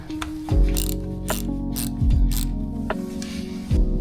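A ratchet with an 8mm socket undoes bolts on a Mazda Miata (NA/NB) engine, producing close, crisp clicking ratchet strokes in short bursts with deep knocks between them.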